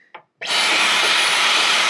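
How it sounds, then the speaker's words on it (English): A vacuum cleaner switches on after a brief click and runs with a steady, loud broadband roar while cleaning a removable clothes dryer part, sounding close and continuous with no talk over it. "So I'm gonna vacuum this shit."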